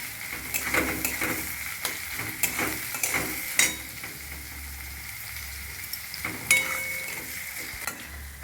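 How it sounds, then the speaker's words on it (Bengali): Chopped onions sizzle steadily in hot oil in a pan for a spinach and chickpea dal, with a spoon stirring them in repeated scraping strokes. The sound is close and continuous, with no voices. "এইবারে দেব পেঁয়াজ। পেঁয়াজটাকে ভালো করে একটু ভাজা হলে"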